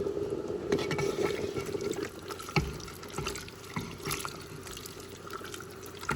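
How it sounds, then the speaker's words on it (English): Chili verde simmering in a pot on a family farm kitchen stove, bubbling and sloshing wetly as a spoon stirs it, with occasional knocks against the pot, close and with no speech. "I'm gonna stir that in there"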